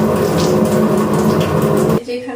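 Tap water running strongly into a sink while raw chicken is washed: a loud, steady rushing stream that cuts off abruptly near the end.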